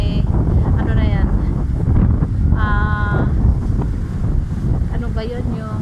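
Strong typhoon wind buffeting the microphone and waves pounding the shore at Taal Lake during Typhoon Kristine in 2024, a heavy continuous rumble with a person speaking over it.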